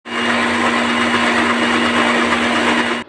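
Electric grinder running continuously, mixing beaten eggs with ground sugar for a tea cake batter, a loud steady motor whir with a sustained hum from start to stop.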